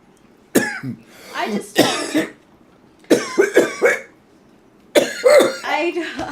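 A few short, harsh coughs break up a person's speech, with talking resuming between the bursts.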